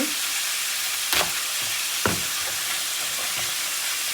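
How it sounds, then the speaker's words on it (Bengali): Fish fries in a hot pan with a steady, loud, close sizzle and hiss, broken by a couple of faint knocks or scrapes. "এদিকে মাছটা ভাজা হোক"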